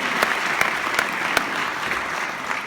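Rally crowd in Fairfield, Iowa applauding during a Bill Clinton speech, a steady wash of many hands clapping at moderate distance, fairly even and unbroken for a few seconds.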